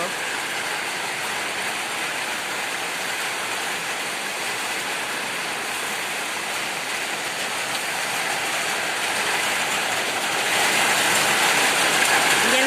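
Unexpected rain pours down steadily in Kerala as a dense, even hiss, and it grows slightly heavier toward the end, with no talk.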